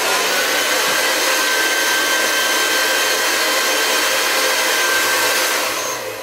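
A hair dryer on its low setting blows straight down onto hair, a steady close whooshing roar that runs without a break and eases slightly at the very end.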